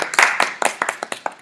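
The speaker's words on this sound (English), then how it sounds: "Round of applause." Brief clapping in a news studio, with a handful of sharp, distinct claps in an uneven rhythm, close and fairly loud, from only a few pairs of hands.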